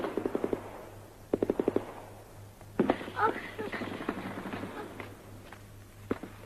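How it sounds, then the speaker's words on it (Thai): Rapid bursts of gunfire crack out near a house in a rural setting, quick clustered volleys followed by a louder single shot and scattered reports, with people talking in the background. "เจ้าบ่ได้ยินวะเสียงปืนแตกอ้อมบ้านหั่นน่ะ"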